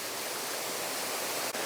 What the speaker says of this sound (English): We've got to be at the waterfall now.